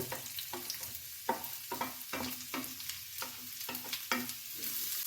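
Chopped onion frying in a pan for an egg-pappadam curry, with a steady crackling sizzle broken by repeated knocks and scrapes of a spoon stirring, all close up and without any voices.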